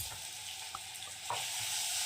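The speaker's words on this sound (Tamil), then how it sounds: "எண்ணெயிலே நல்லா வதக்கிடுங்க" Okra sautéing in hot oil in a pan for a ladies finger masala curry, a steady close sizzle with a few brief stirring scrapes and small pops, no voices.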